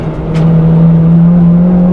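A 245 bhp Honda Integra DC5 Type R on a track, its engine droning steadily at high revs in one gear, loud and close from inside the car.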